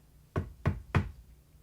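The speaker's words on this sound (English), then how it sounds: "Now, they knock at the door" Three sharp knocks on a door, evenly spaced and close by, each a hard wooden rap with nothing else around them.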